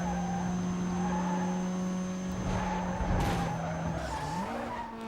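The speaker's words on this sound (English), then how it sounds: "Battling Serum in the Mazda RX-7 FD." Mazda RX-7 FD racing in Need for Speed: Most Wanted (2005, PS2), with a steady droning engine and tire squeal skidding through a corner, the engine note rising near the end.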